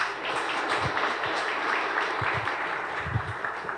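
An indoor audience at a business talk breaks into scattered, fairly steady clapping that carries on for several seconds, heard from the room at moderate loudness without any voices.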